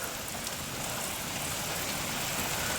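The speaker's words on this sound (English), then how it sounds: "you know the rain is quite fierce" Dense, steady rain pours down hard during Storm Dennis, a loud unbroken hiss filling the whole stretch with no talking.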